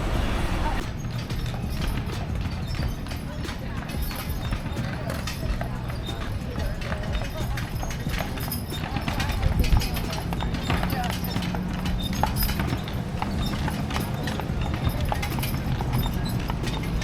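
Horse hooves clip-clop in a steady, continuous rhythm on a street during a horse-drawn carriage tour of a city neighborhood, with a voice talking over the constant hoofbeats and the rumble of the carriage.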